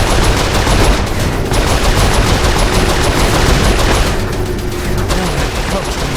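Rapid, loud turret gunfire in Saints Row IV rattles continuously in dense automatic bursts, mixed with booming game effects and no pauses.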